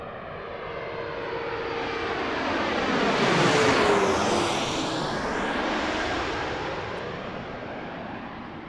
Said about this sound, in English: Looks like a CRJ.